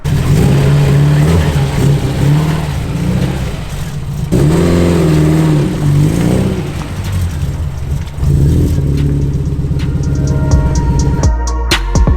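A 600 WHP Subaru WRX running nitrous revs in repeated loud, rising and falling engine surges, heard close from the cabin with a rumbling drone between pulls and rattles near the end.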